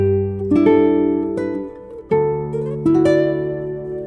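A guitar plays a short video game or anime piece from tab, with several plucked notes and chords ringing out in slow succession, close and clean with no talking.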